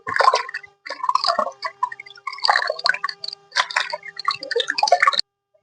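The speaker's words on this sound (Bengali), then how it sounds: "একটা বালতির মধ্যে জল নিয়েছি একবারে একসঙ্গে ধুয়ে নিচ্ছি" Betel leaves are swished and splashed by hand in a bucket of water, with repeated wet sloshing and dripping bursts close by that stop abruptly at the end.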